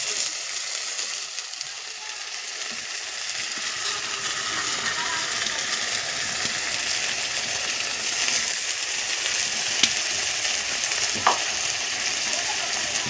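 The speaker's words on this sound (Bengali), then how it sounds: "এটা আমরা এবার কড়াইতে খুন্তি দিয়ে ভালো করে কষিয়ে নেবো।" Onion and ginger-garlic paste sizzle and fry in a hot wok for a spicy Bengali brinjal dish while a spatula stirs them. The frying hisses steadily throughout, and a few sharp metallic scrapes and taps of the spatula stand out near the end.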